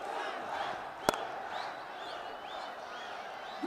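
Large cricket crowd at a night match in a stadium, a steady roar of cheering and whistles held throughout, with one sharp clap-like burst early on.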